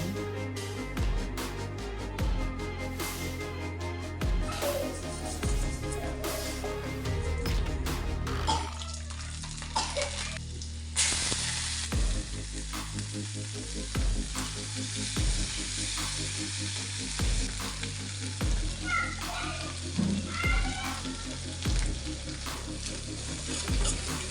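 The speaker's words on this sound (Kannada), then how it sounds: "ಇದಕ್ಕೂ ಅಷ್ಟೇ ಬರೀ ಬೆಳ್ಳುಳ್ಳಿ ಹಾಕ್ತೀನಿ, ನಾನು ಒಗ್ಗರಣೆ ಹಾಕ್ತೀನಿ" Garlic sizzles and fries in hot oil in a pan as a tempering for radish pod curry, with steady crackling, occasional stirring clinks and a loud burst of spitting oil midway.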